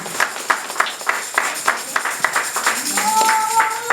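Church congregation clapping together during worship, a steady rhythmic beat of many hands filling the room, with a sustained musical tone entering toward the end.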